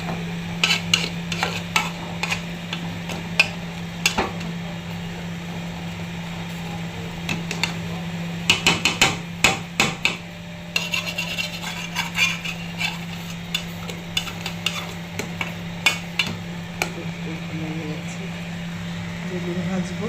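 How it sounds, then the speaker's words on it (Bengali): Spinach being cooked with prawns in a pan, a steady low hum running beneath scattered clicks and taps of a spatula stirring against the pan, with no loud sizzle. "পালং শাক রান্না করতেছি চিংড়ি মাছ দিয়ে"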